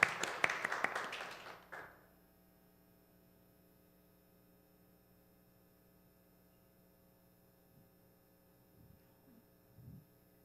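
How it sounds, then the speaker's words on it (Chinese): Warm applause from the audience at a youth church worship service as a speaker is welcomed, a dense burst of clapping lasting about two seconds before dying away into quiet room hum. "我们用热烈的掌声来欢迎李倩如干事来分享"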